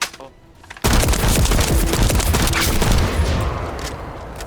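Rapid bursts of automatic gunfire in the shooter The First Descendant on PS5, loud and dense after a quiet start, continuous crackling volleys close up with booming impacts.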